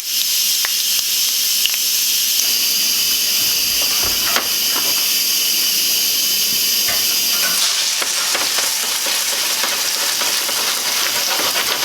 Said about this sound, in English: we're going to toss in a few sage leaves and fry them off